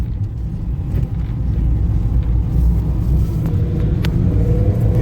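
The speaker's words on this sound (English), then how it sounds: "When it changed from second to third, trust me, it was crisp." Mazda 2 (Demio) car after a transmission fluid and filter change, a steady close engine rumble as it accelerates through the gears, loud and continuous with no talk.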